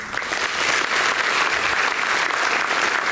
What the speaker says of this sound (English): Please celebrate our Honor Cup alumni with your applause.